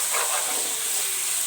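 Peas and mixed vegetables, cabbage and potato among them, fry in a pan with a continuous close sizzle and hiss, with no voices over it.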